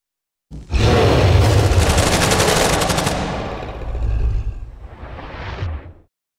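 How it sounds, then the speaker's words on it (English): Designed gunfire for three guns firing inside a stairwell: a loud, dense burst of rapid automatic shots with a booming low end, fading briefly, then a second shorter volley ending abruptly. "And that's how quickly I could design the sound for 3 guns inside that space."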